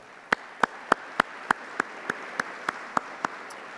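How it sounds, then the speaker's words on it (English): Steady, evenly spaced hand claps at a business meeting, about three per second, sharp and distinct rather than a dense crowd roar, with no talk over them. "So I want to give a round of applause to all of our foundation staff as well"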